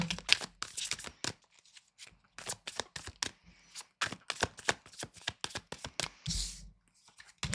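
Tarot cards are shuffled close up in quick bursts of crisp riffling and flicking, with brief pauses between rounds.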